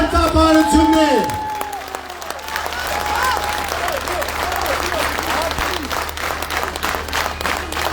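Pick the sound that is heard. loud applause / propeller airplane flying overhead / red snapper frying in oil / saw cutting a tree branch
loud applause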